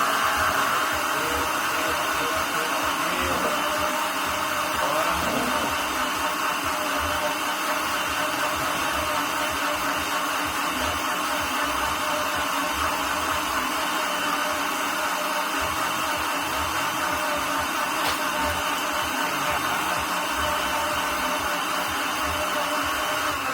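A countertop blender runs steadily, beating milk and eggs for a cake batter with a loud, continuous whirring drone that holds unbroken from start to finish.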